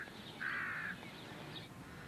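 A single crow in London gives one harsh, drawn-out caw at moderate distance over steady urban background noise. A fainter bird call follows a moment later.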